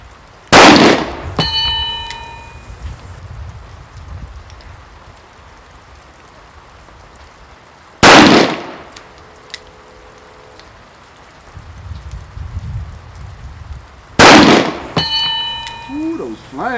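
An S&W Mountain Gun revolver fires outdoors while it snows: three loud, sharp, close shots a few seconds apart, each with a short ring-out, over a soft background hiss.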